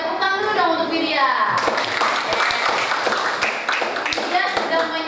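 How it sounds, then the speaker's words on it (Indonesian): A classroom of students applauds a classmate, a burst of scattered hand claps rising after a teacher's voice and continuing steadily under children's chatter. "Selain tepuk tangan dulu dong untuk Widya."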